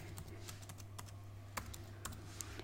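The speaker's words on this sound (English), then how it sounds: "we're just gonna type out heart breaker" Keys tapped on a computer keyboard while text is typed out for tracing work in Silhouette Studio, a quick irregular run of soft clicks with a few sharper strokes over a steady low hum.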